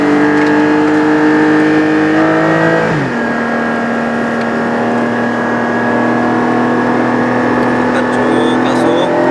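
A Porsche sports car, a Cayenne Turbo GT or 718 Cayman GT4, accelerates hard on a race circuit. The loud, steady engine note climbs in pitch, drops abruptly at a gear change, then climbs again.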